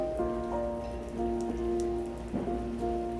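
Steady rain falling on surfaces in the video game South of the Circle, a continuous patter with a sustained tonal hum in the background.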